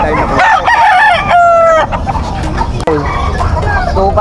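An eight-month-old stag, a young gamecock, crows loudly and close at a weekend rooster sale in Malabon, one drawn-out crow followed by clucks and a shorter call, with people talking and market noise around.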